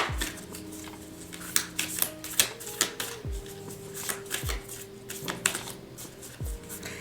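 Tarot cards being shuffled in a reading, with stiff, uneven riffles and soft snaps spread through the clip over a bed of faint background music.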